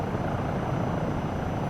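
A helicopter in Microsoft Flight Simulator 2024 flies over Glacier Park, giving a steady, dense rotor and engine roar that holds at a constant level throughout, with no voices.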